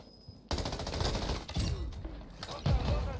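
Mortar strikes slam down in Call of Duty on Ashika Island, several sharp close blasts in quick succession with crackling debris and rumbling between impacts, alongside gunfire and a voice.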